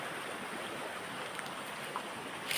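A steady broadband wash of water runs over a rocky Indonesian fishing river with big boulders, continuous and fairly close, with a few faint brief splashes and no voices.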